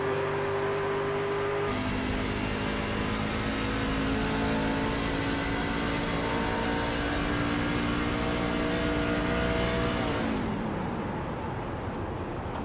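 A racing video game truck holds a loud, sustained engine whine as the throttle stays open, with a brief shift early on, then the pitch falls away around ten seconds when the clutch is pulled, leaving a quieter, duller drone.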